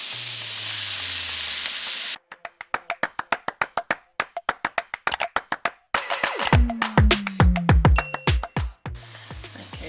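Minced meat frying with onions in a pan for potato-top pie gravy: a hissing sizzle opens and closes the stretch, with a long run of sharp, rhythmic taps and scrapes from a utensil in between.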